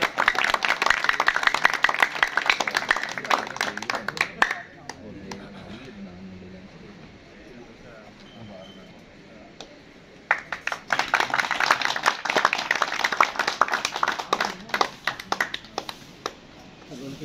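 An audience at a tournament prize giving breaks into crisp, scattered clapping that fades to a quieter stretch with talk, then surges back into steady applause.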